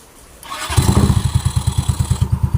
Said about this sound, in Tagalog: Tahimik na yung makina.